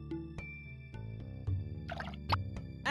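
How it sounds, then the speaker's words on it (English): Concentrated gasoline is poured into a bottle in the adventure game Runaway: The Road Adventure, heard as several soft drips and liquid plops over a steady hum of game music. "I'll fill it right up to the mark"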